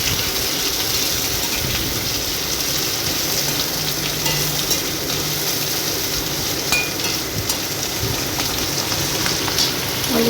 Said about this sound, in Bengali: আলুগুলো ভালো করে ভেজে নেব।